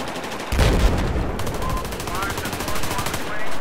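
Battlefield 4 gunfire on the Golmud Railway map in Obliteration mode: loud, rapid automatic bursts and rattling shots close by, running continuously with a player's voice talking over them.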